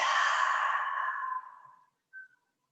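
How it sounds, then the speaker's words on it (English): A long, soft exhaled breath during a gentle yoga session, close and steady before fading out, followed by a brief faint whistly tone; no talking. "One more breath in. Exhale it out."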